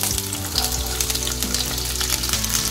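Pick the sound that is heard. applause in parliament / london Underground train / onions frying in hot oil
onions frying in hot oil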